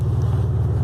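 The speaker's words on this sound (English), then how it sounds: "tires are just spinning." Toyota Tacoma in 2-wheel drive, tires spinning against a ledge: a steady, close engine drone with continuous low rumble and no pause, heard alone.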